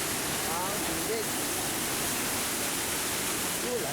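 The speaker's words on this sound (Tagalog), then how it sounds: "Punta tayo doon sa ilalim ng waterfall." Storseter waterfall near Geiranger roars in a steady, dense rush of water, loud and close with no pauses.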